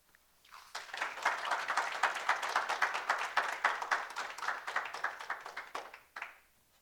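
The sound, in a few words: audience applause for speaker Vivian's story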